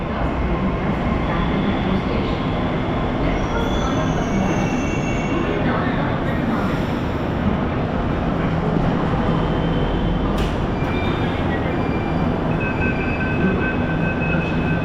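Mumbai metro train runs at speed, a loud continuous rumble of wheels on track heard from inside the carriage, with occasional high wheel squeals and brief faint voices.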